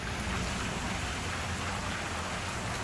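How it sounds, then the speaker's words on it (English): Steady rain pours down in Spain on the Camino route between Lorca and Villamayor de Monjardín in a dense, even hiss, with no voices or other sounds. "It's still raining here, but not like it was."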